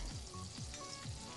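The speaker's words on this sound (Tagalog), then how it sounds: "initin lang natin yung butter, 2 tablespoon of butter and 2 tablespoon of" Butter and sweet oil heating in a pan, a soft steady sizzle with faint crackles, quiet and continuous with no talking.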